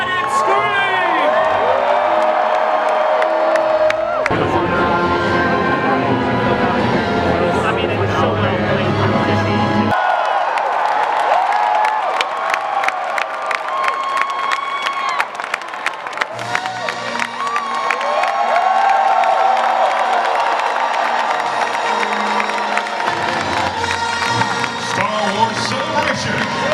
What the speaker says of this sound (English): If you're excited, scream!